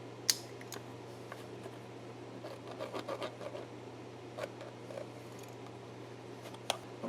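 Kydex edges being trimmed on a DIY rifle cheek rest, giving scattered short snips and scrapes over a steady low hum, fairly quiet with a couple of sharper clicks.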